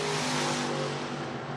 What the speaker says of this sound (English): Hot laps underway here for the Pure Stock Division.